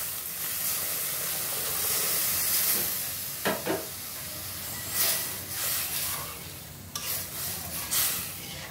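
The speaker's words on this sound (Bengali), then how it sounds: "দেখো ডালটা ফুটে উঠছে" Mung dal cooked with a rohu fish head boils in a pot on the stove, giving a steady hissing, sizzling bubble with a few louder clatters and stirring knocks near the end; no voices.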